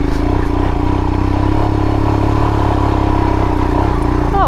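A Royal Enfield Himalayan motorcycle labours up a steep hill in the bushes, its single-cylinder engine thumping loud and close with a steady, throbbing drone throughout.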